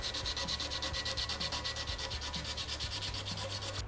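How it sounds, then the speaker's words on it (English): Hand sanding a brazed fillet on a bicycle frame with a one-inch strip of 80 grit paper, a fast rhythmic back-and-forth rasping scrape repeating evenly, close and alone. "I've got 80 grit paper. It's an inch wide. So I'm putting pressure right on there"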